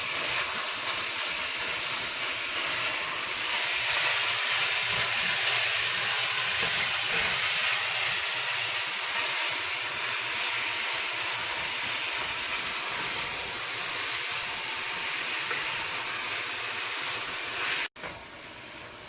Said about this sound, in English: We're going to put the meat right in there. Saute the meat a little bit.